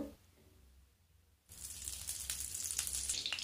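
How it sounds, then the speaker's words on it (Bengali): Ghee hits a hot kadai on a gas flame, starting from near quiet before a sudden bright sizzle rises and holds steady and close. "গ্যাসের উপর কড়া বসিয়ে দিয়েছি, ঘি দিয়ে দেব।"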